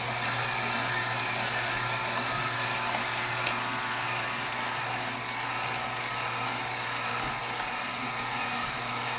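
An Omega VRT350 HD vertical slow juicer pressing oranges gives a steady mechanical grinding hum with a low motor drone, continuous and close, with a single faint click partway through and no voices.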